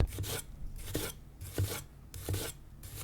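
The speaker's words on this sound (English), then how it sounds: "Chopping the onion is faster than slicing through it." Knife chopping an onion on a cutting board, close and crisp, in quick bursts of rapid strokes separated by short pauses.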